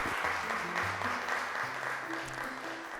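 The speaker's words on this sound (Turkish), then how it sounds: "Dördüncü soruda alkışlıyoruz arkadaşlarımızı." Applause for contestants on a Turkish TV quiz show fills the studio, a steady dense clapping that runs throughout with faint tonal music underneath.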